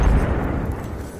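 A frag grenade goes off in Apex Legends, a single loud, low rumbling blast that fills the short moment and decays slowly, with no voices over it.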